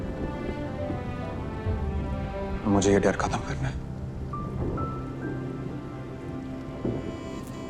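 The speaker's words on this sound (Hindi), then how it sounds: "बाहर बारिश हो रही है, अंधेरा काफी है।" Steady patter of rain during a storm at night under a voice speaking in Hindi, with a brief louder splash or rattle partway through.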